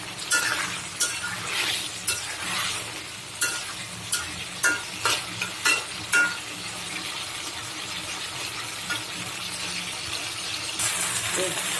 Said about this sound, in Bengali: চিকেনটাও সুন্দরভাবে কষানো হোক।